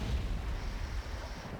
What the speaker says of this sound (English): So it's dropping lots of mortars